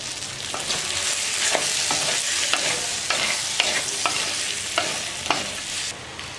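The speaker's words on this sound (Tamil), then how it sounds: "காரம் மசாலாலாம் இறங்கிறதுக்காக நல்லா 1 நிமிஷம் நல்லா வறுக்கலாம்." Masala frying in a pan with curry leaves for a mutton curry, a steady close sizzle broken by regular scraping strokes of a spoon stirring, with no voices.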